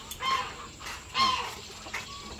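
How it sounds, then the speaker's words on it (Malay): Arab chickens cluck inside a backyard homestead coop in Malaysia, with a few short, close clucks and throaty calls rising over a low, steady background hum. "So tengok ni reban ayam Arab."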